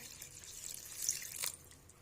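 Half a glass of water poured into a cooking pot of Pakistani aloo qeema with red chilli, salt and turmeric, a faint close splashing trickle that swells briefly twice, with no talk.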